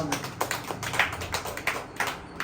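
Hand clapping in a Tamil children's Bible lesson, a series of sharp irregular claps spread across a couple of seconds, moderately near, with no talking over them.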